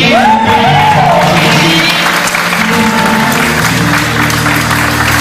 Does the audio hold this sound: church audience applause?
yes